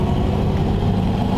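A 1940 Ford Tudor engine idles close by with a low, even rumble and a faint uneven burble running through it, steady for a brief moment.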